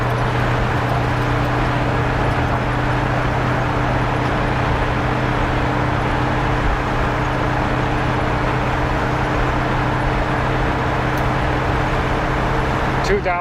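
Inside a 1957 car cruising on the highway, a constant loud drone of engine hum, wind and road noise holds unbroken throughout, with a steady low tone underneath.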